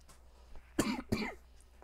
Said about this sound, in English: that's why I'm coughing every now and then